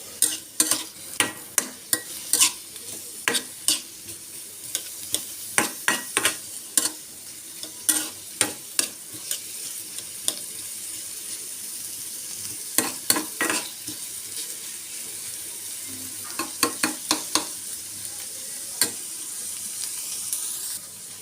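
Onions frying soft in oil in a pan, a continuous sizzle broken by frequent sharp scraping stirs in irregular bursts, close and fairly loud with no talking.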